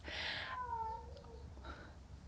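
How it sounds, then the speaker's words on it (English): A cat lets out a drawn-out, wavering yowl, rising and falling in pitch, followed by a fainter second call, over a low background rumble. "You might be able to hear her yowling at birds."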